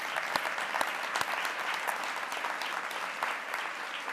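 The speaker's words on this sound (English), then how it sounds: "A huge round of applause for our corporate members." A crowd at a NYWICI welcome event applauds corporate members in a thick, steady wash of clapping, with a few sharper individual claps standing out, all at an even moderate level throughout.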